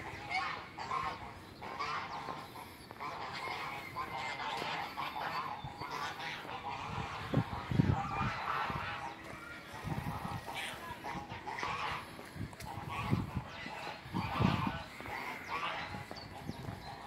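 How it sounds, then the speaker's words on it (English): Geese honk repeatedly outdoors at moderate distance, a loose chorus of calls scattered across a steady background of traffic-like noise, with a voice briefly present. "Some goose over there, geese."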